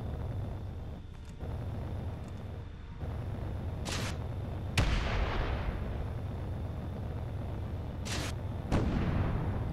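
Turrets firing at a planet base in the Space Engineers video game, several distinct booming shots with a sharp attack and rumbling decay, spaced a few seconds apart over a low steady hum.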